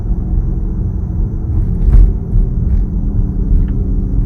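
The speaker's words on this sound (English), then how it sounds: "It kind of simulates a car with an engine." A steady low synthetic hum from a 2024 Porsche Macan electric SUV's simulated engine sound drones on like an idling engine, constant and moderately loud with no talking.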